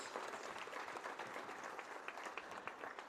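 Audience applause at a college volleyball senior night between Brevard and Pfeiffer, a dense, steady wash of many hands clapping in a gym, sustained and even throughout.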